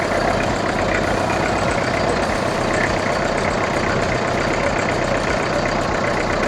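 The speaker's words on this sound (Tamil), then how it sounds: "அது இன்ஜின் ஆடுது, இன்ஜின் சவுண்டு தான்." A 2003 Toyota Qualis diesel engine idles close by with a loud, steady, rough clatter that holds evenly from start to finish.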